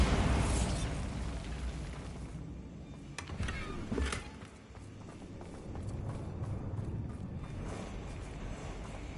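A Bombarda spell explodes in Hogwarts Legacy on PS5, a booming blast that rolls off into rumbling debris, with a few sharp cracks and pops and a low lingering rumble afterward.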